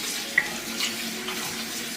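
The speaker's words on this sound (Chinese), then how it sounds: "用淀粉进行抓洗，可以很好的洗去排骨的血水" Pork ribs rinsed under a running kitchen tap, a steady close rush of water splashing into the sink with one small clink near the start.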